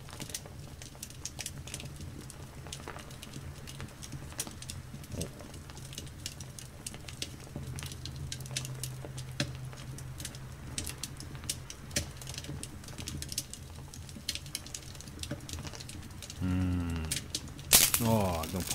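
Crackling firewood burning in a fireplace game, soft irregular pops and snaps scattered over a quiet background, with a louder cluster of crackles near the end and a voice talking intermittently.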